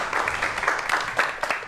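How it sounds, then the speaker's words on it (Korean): A studio audience claps loudly to welcome guests onto a televised cybersecurity lecture stage, a dense, even applause sustained throughout with several louder swells. "여러분 큰 박수로 환영해 주시기 바랍니다."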